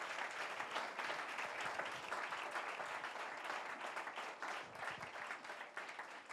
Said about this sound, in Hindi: जोरदार ताली यीशु मसीह के लिए